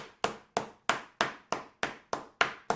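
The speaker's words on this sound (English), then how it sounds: "Let's give it a couple more whacks." Beef for a roulade is pounded flat with a mallet in a run of nine sharp, evenly spaced whacks, close and loud with brief decays and no talking.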